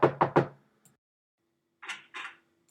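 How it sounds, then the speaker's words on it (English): Knuckles rap on a house door: a quick, loud group of three knocks up close, a pause, then two softer knocks, with no voices. "I can't wait to see her after I knock the door for her"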